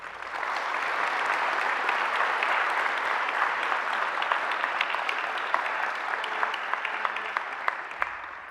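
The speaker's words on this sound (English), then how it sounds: "Please join me in a round of applause for them." Steady, dense applause from a graduation ceremony audience in a university courtyard, sustained at even strength for about eight seconds before easing slightly at the end.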